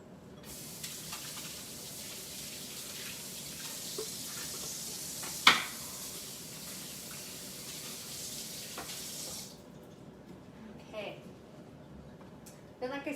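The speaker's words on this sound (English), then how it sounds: "So we're just gonna cook these for a bit to get them kind of a nice little crispy color." Brussels sprouts crisping in a hot pan give off a steady broadband sizzle that fills most of the clip, then cuts out, leaving quieter kitchen sounds and a person talking.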